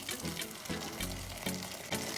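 Hot water from a kettle poured steadily into a pot of palm nut soup base, a faint continuous splashing pour with no talking.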